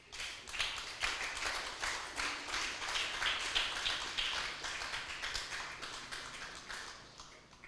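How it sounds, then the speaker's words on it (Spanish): A church congregation claps for the Lord during a sermon, dense rhythmic applause from many hands, steady and fairly close, fading slightly toward the end with no talking. "Denle un fuerte aplauso al Señor, aleluya."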